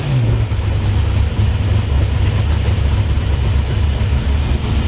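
A 4150 carburetor running on E85 fuel, engine revved hard with a strong low-frequency roar that holds steady and loud throughout, close up with no talking.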